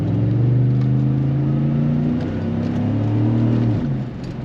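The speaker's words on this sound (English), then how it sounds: "I'm gonna give it a little gas as well." A truck fitted with a Flowmaster exhaust, Original 40 or Super 40 muffler, revs up to about 4,000 RPM, its deep rumbling engine note rising and holding loud and close before dropping back.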